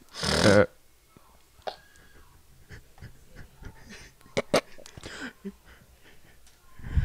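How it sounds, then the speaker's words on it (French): A single person's sneeze, sudden and close, bursts out at the very start, followed by quieter breathing, small mouth noises and faint shuffling. "je vais juste éternuer."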